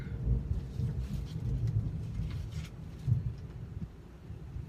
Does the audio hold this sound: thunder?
yes